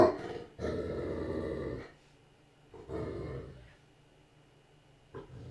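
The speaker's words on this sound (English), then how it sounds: "She's just lying on the middle of the floor, growling upwards." A dog lying on the floor of a house growls in long, low rumbling bouts, one sustained growl followed by a shorter one after a pause, fairly close and moderately loud with quiet gaps between.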